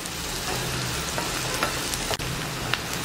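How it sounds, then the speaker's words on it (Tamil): Fennel seeds sauté in hot oil for a prawn thokku, giving a loud, steady, close-up sizzle that holds evenly throughout with a few soft scraping knocks and no talk. "இப்போ சோம்பு நல்லா எண்ணெயில் வதக்கிட்டோம்."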